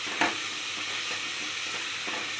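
Chili powder frying in a hot pan for cauliflower 65 biryani, a steady close hiss of sizzling oil broken by one sharp scrape of stirring near the start.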